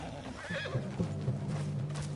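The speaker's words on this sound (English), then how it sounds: "What's got this horse spook, huh?" A video game horse gives a loud, wavering whinny, followed by snorting and shuffling hoof sounds close by.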